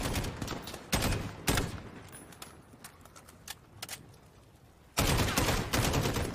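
Gunfire from Call of Duty: Modern Warfare in an online match, with sharp bursts of shots cracking in short volleys separated by quieter gaps, the heaviest burst landing near the end.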